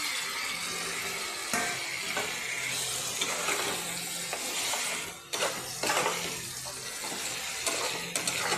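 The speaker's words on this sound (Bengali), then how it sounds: "আমি সিদ্ধ করা রাজমাটা এখানে দিয়ে দিচ্ছি" Boiled kidney beans cook down with spices and carrot in a pan for rajma, a soft continuous sizzle with intermittent stirring scrapes and clinks, fairly quiet and without talk.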